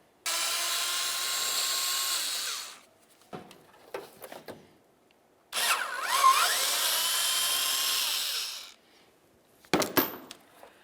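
A power tool backs out 10mm mounting bolts on the washer reservoir of a 2007-2012 Nissan Sentra, running in two long, close whirring bursts separated by quiet clinks, then a short final spin.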